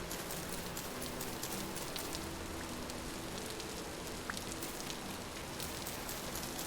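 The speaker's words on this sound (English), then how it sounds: "It is just common rain." Steady, dense patter of rain in the video game Vintage Story, a constant soft hiss of drops with no distinct events or voices.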